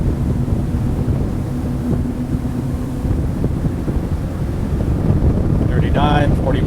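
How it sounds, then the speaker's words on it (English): Loud, steady roar of a Bluewater 25T boat running at wide open throttle, with wind rushing over the microphone throughout and a brief voice near the end. "So now we're going to do wide open throttle run north."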